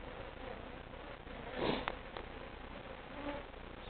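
Honeybees buzz around a top bar hive close to the microphone, a low steady drone with a few louder passes swelling in and out.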